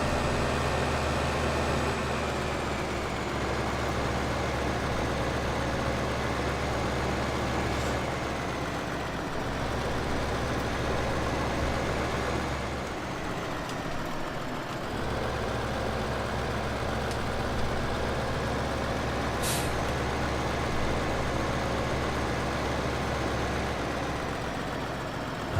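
A tractor engine in Farming Simulator 2015 drones on steadily for the whole stretch, a constant rumbling hum with slight shifts in tone as it drives, fairly close and with no talk over it.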